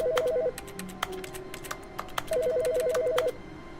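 A telephone rings inside the video game The Stanley Parable with a repeated electronic ringtone in two bursts, the second longer. Sharp, brisk clicks of keyboard tapping run through the whole stretch.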